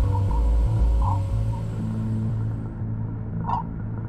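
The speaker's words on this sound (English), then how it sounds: "This is the sound of the solar wind as it abruptly slows down from the pressure of interstellar gases" Voyager 1 recording of the solar wind abruptly slowing against interstellar gases, rendered as a low, steady rumbling hum with faint whistling tones that drift above it; continuous and moderately loud, no voices.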